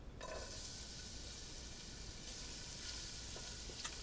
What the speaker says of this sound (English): what we're doing here is we're sweating this garlic